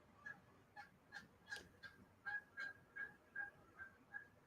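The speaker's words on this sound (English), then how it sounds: "The Canada geese are losing their shit today." A pair of Canada geese nesting on a house roof honk repeatedly in a steady series of about a dozen calls, moderately distant and clear with no voices over them.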